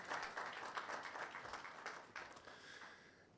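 Applause from a studio or hall audience at a science and maths quiz balloting broadcast, a continuous rattle of many hands at fairly low level, steady throughout without speech.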